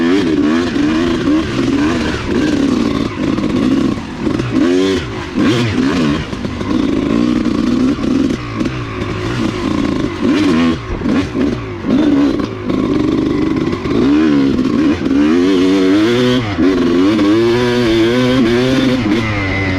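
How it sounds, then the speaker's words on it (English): A Kawasaki KX250 off-road dirt bike rides laps through a wooded trail section, its two-stroke engine buzzing and revving continuously at close range, pitch rising and falling with throttle for the whole stretch. "on my off-road KX250 behind me"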